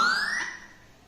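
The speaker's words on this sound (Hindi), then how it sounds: "जैसे ही एसएमएस सेंड हुआ ये सायरन शुरू हो जाएगा।" Anti-theft siren alarm blaring from a mobile phone, a single bright rising electronic tone that fades over about a second, loud and close with no voices.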